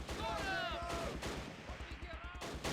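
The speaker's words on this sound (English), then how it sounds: "I'm hearing the shooting somewhere here." Gunfire in the Close Combat wargame at Arnhem Rail Bridge: repeated sharp shots and bursts at a steady rhythm, moderately loud, with a few overlapping whistling tones.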